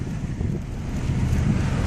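A wind gust during a severe thunderstorm in Dubuque, Iowa, makes a loud, low rumbling buffet against the microphone, a continuous roar with no voices.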